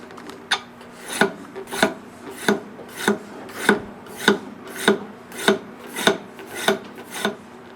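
Steady rhythmic rasping strokes of a scraper removing tool marks from a wooden fingerboard, about one stroke every half second, close and fairly loud.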